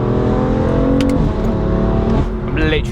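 A 700hp BMW F82 M4 in M mode revs hard while accelerating at quarter throttle, a loud close engine drone rising and shifting under someone speaking from inside the car.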